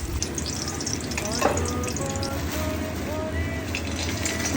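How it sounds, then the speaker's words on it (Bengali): Coconut frying in oil in a wok, a steady soft sizzle running under intermittent stirring and clinks, with some talk in the background. "কড়াইতে তেল দিয়ে দিয়ে দেব নারকোল ভাজতে"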